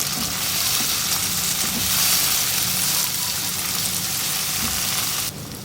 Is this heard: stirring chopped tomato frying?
yes